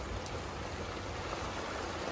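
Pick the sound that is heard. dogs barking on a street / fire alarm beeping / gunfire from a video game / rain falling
rain falling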